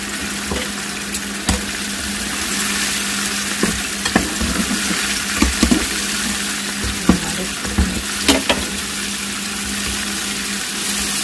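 Filleted fish deep frying in a pan of oil for dinner, a loud continuous bubbling sizzle up close, punctuated by scattered sharp pops and clinks of a utensil, with no one talking.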